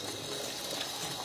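Water runs steadily from an automatic faucet in an airport restroom, a continuous close hiss and splash with no pauses over a short moment.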